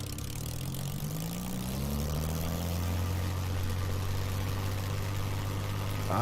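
Supermarine Spitfire L.F. Mk IXc piston engine idling in a VR flight simulator, a steady low droning hum with a slowly shifting tone, continuous and fairly loud with no talk.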